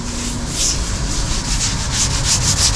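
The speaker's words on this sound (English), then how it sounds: "sprayed detergent over the whole panel, just there. Quick scrub ninja." A Scrub Ninja brush scrubs a detergent-covered car interior panel in steady back-and-forth strokes, a continuous close, loud rasping rub with a rhythmic swish.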